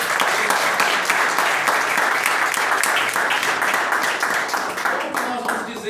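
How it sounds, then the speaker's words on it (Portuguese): A church congregation applauding a visiting brother during a family celebration service, with loud sustained clapping filling the room and voices rising under it. "Vamos aplaudir esse homem."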